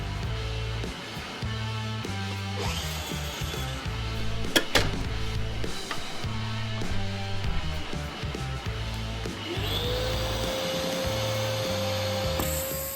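A Lumberjack Tools Pro Series 12-inch sliding mitre saw runs close by with a steady mechanical whir, uneven knocking and a brief sharp click, then a rising whine as the motor spins up near the end.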